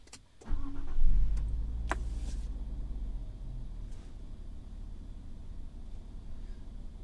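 A 2024 Nissan Z sports car engine cranks and catches, then settles into a low, fairly quiet idle rumble with a few faint clicks.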